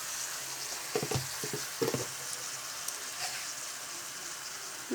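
Chicken pieces frying in a pan with onions already browned, a continuous close sizzle broken by a few soft clinks and stirring knocks.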